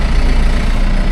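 A new-to-the-owners farm tractor idling beside a barn, its engine giving a steady, loud low-pitched throb that holds constant from start to finish, with no voices.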